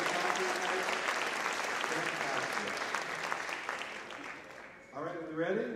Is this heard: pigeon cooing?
no